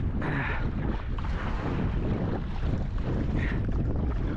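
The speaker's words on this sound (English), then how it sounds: "Then the wind picks back up." Gusty wind buffets the microphone while kayaking on Diablo Lake, a continuous loud roar with a faint wash of water underneath and no talking.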